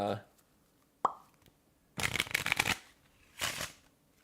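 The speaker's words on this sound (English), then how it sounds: "yeah, these are already shuffled." A deck of playing cards is shuffled at a tabletop card game, giving two bursts of rapid riffling flutter, one long and one shorter, close and fairly loud, after a single sharp tap and a brief voice at the start.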